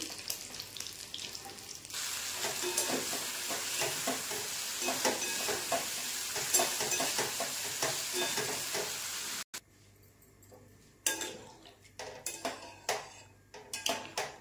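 Eggs frying in a pan, cooked hard until crisp, with a steady loud sizzle and stirring scrapes for several seconds, then quieter frying broken by sharp clinks of a utensil against the pan.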